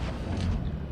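A tank cannon round striking a Hetzer tank destroyer in World of Tanks Blitz, a brief dull low boom with rumbling impact noise lasting under a second.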